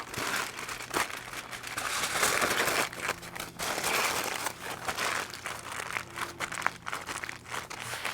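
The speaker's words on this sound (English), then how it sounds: "Wrap it in some foil here. I have it double layered just to make sure it doesn't rip on the grates." Double-layered aluminum foil crinkles and crumples close up as it is wrapped tightly around pork spare ribs, with busy, uneven rustling throughout.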